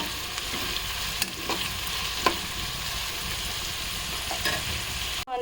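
Onions frying in a pan for crab curry gravy, a steady close sizzle throughout with a few scraping stirs of the spoon, ending in a brief clatter.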